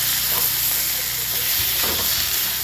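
Chicken pieces in spiced masala frying and being stirred in a pan, a loud, steady sizzle with scraping stir strokes, close up and with no one talking.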